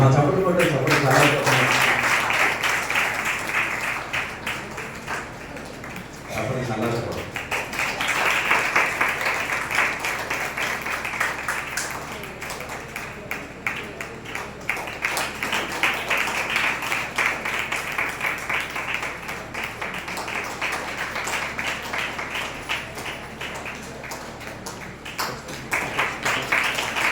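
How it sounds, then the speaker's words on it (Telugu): A church congregation at a children's Bible exam gift event claps in sustained, uneven applause that lasts throughout, with people talking over it. "తప్పట్లు కొట్టాలి"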